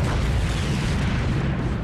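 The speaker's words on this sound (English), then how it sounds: "Cool guys, don't look at explosions, Makoto." A dense, rumbling explosion in the video game Yakuza 0 roars continuously, loud and full, with no voices.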